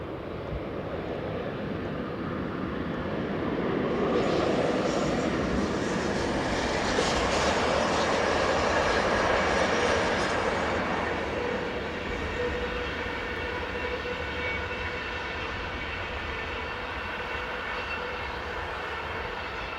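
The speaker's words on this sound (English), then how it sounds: "Class 120s are regular performers through here on intercity duties." A westbound Class 120 electric locomotive hauls an intercity train past, a steady loud rolling roar that swells through the middle and then eases into a long fading rumble.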